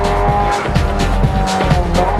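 A Fiat Punto race car squeals its tires through a corner, with loud repeated screeching bursts over a strong engine roar, close and without voices.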